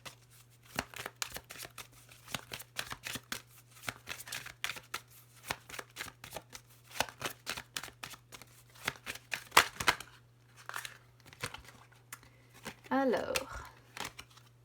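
Tarot cards shuffled by hand, rapid close riffling and slapping in irregular bursts, with papery rustles and a faint steady hum underneath, then brief chimes near the end.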